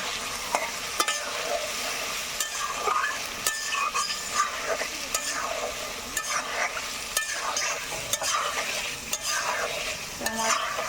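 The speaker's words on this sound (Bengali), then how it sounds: "এবার এর ভিতরে আমি ভেজে রাখা আলুগুলো দিয়ে দেবো আলুগুলো দিয়ে কিছু কষিয়ে নেব" Fried potatoes tossed in spiced masala in a pan, a busy close-up stir-fry with constant sizzling and frequent rhythmic scraping and clatter of the spatula, with no speech.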